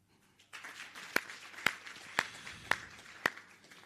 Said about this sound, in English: if we may please clap hands for ourselves for committing to build this organization, this industry